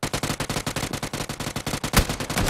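Rapid automatic gunfire in the battle royale game PUBG, a steady rhythmic burst of evenly spaced shots across under three seconds, with one sharper, louder report near the end.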